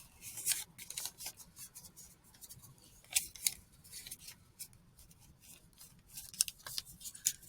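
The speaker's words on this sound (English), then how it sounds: "if you have sharp enough scissors" Sharp scissors snip through paper folded many times, a run of crisp close cutting strokes with brief louder bites, alone with no talking.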